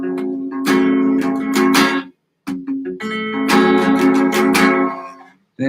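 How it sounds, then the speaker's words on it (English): Guitar chords played on the bottom four strings during intermediate practice, strummed in two ringing passages separated by a brief pause, close and clear with no talking. "Now we're going to do the bottom 4 string that chords that sound like this right here."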